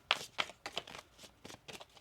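Tarot cards are shuffled in quick riffling bursts, about six short crisp flutters spaced close together, close up and fairly quiet.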